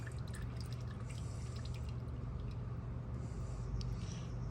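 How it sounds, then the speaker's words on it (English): Engine oil drips from the drain plug of a 2007 Toyota Highlander during an oil change, faint scattered drips over a quiet, steady background hum. "it's starting to come out the oil plug too"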